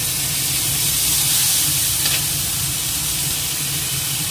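Cumin, a dried chilli and ginger paste sizzle in hot oil in a pan, giving a steady loud hiss and fizz that holds constant from start to end with no talking.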